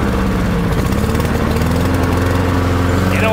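Honda lawn mower engine warming up, revving up and down as the RPMs rise and fall, a loud, close, continuous drone with shifting pitch and no speech.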